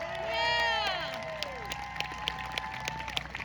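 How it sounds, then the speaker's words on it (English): Festival crowd at a liberty rally breaks into applause and whoops for the young attendees under 18, a broad swell of cheering with scattered claps and shouts that fades into lighter clapping. "Give a round of applause to these guys."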